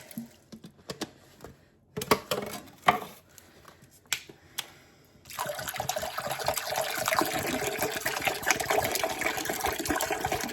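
A few scattered clinks and drips, then a steady rush of water pouring continuously, moderately loud, with no voices.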